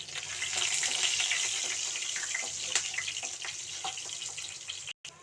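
Green chillies fry in hot oil with mustard seeds and curry leaves for a dried-fish thokku, giving a close, continuous crackling sizzle with scattered pops and no talking.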